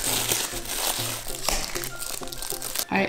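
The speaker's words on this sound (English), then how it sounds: "I'm gonna find a nice spot for it in the house after just unwrapping it." Close, loud crinkling and rustling of packaging being unwrapped from a scented candle, with steady crackling bursts and a few sharper crunches that run continuously for about three seconds in a quiet room.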